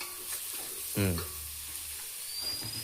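Ginger garlic paste fries in an electric cooker while biryani is being made, giving a close, continuous sizzle with a clatter of stirring partway through.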